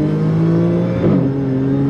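A supercharged Audi S5 quattro with about 420 hp revs briefly on a wet road, its steady engine drone and compressor whine swelling for a moment near the middle of the short burst, loud and close with no talking.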